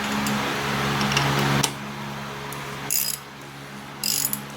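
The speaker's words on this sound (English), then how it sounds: "I'm going to go ahead and put a wrench on it" Ratcheting wrench clicking as it snugs down the plastic oil filter cover on a 2017 VW Passat, a short run of close mechanical clicks followed by a couple of brief metallic taps, with no talking.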